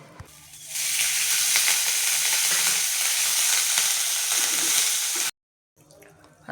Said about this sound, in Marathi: आता हे खोबरं असं लालसर भाजून घेऊ.